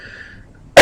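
A single sharp, loud cough bursts out near the end after a moment of near quiet, close to the microphone.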